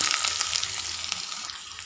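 Chopped small shallots fry in hot oil with popping mustard seeds for a spinach and dal curry, giving a close, continuous bright sizzle with faint crackles.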